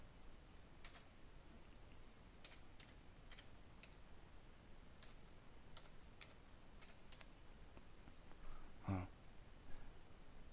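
Sparse, quiet clicks of typing on a computer keyboard come in small clusters of keystrokes against a faint background hiss, with one slightly louder knock near the end.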